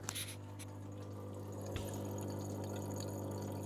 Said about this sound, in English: I can hear the water filling up.